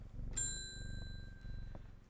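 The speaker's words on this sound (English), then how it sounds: "Purr goes the cat and ding ding goes the bell." A bell in the video game Strange Horticulture gives a single bright, ringing ding that decays over about a second, followed by a fainter tap, over a low steady purring hum.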